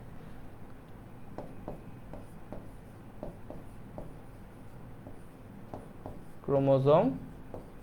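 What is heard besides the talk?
writing chromosome notes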